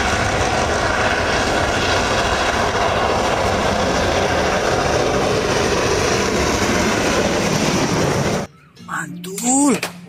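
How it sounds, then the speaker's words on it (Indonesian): A toy train makes a loud, steady rumbling drone for about eight seconds, then cuts off abruptly as a voice speaks briefly. "Ada kereta api."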